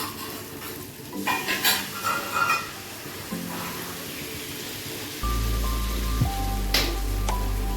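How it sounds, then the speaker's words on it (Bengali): A spoon stirs milk and cashew paste into potol (pointed gourd) masala in a hot pan, with scraping strokes and soft sizzling, then a louder, steady frying hiss that settles in partway through. "দুধ আর কাজুর পেস্টটা দেওয়ার পরে ভালো করে একটু নেড়েচেড়ে নেব।"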